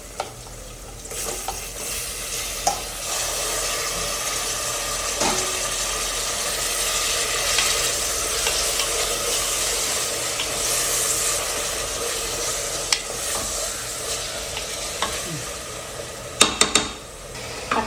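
Chopped tomatoes sautéing in a pan for mushroom biryani, a steady moderate sizzle with stirring scrapes and a few sharp clinks near the end, close and without talk.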